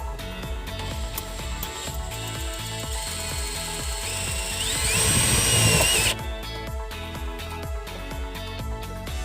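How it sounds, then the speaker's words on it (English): A power drill bores into a plastic interior panel of a 2015 Buick Verano during a trailer wiring installation. The motor whines loudly and steadily, then strains harder as the bit cuts through, and stops abruptly before the end. "there's nothing that I'm going to hurt at all by drilling into this panel here"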